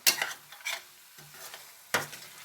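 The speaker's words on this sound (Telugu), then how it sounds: "ఇంకా బాగా కలుపుకొని" A spoon stirs tomato egg curry in a pan, making three quiet, separate scraping strokes over a faint low sizzle, close up and with no talk.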